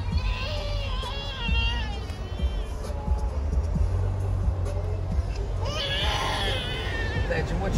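A young child cries in the back seat of a moving car, a wavering wail that rises and falls over the steady low road rumble, with a louder burst near the end.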